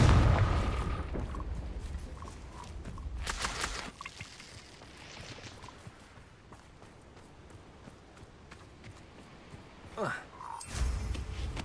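The Confringo blasting spell in Hogwarts Legacy, with a few sharp booming bursts at irregular moments over low game ambience and faint footsteps.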